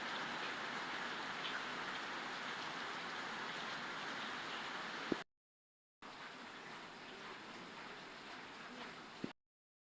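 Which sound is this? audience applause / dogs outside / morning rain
morning rain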